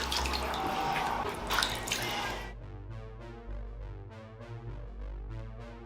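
Water is poured from a cup into a cooking pan, a short splashing pour that cuts off and leaves a few soft drips and bubbling sounds in a quiet kitchen.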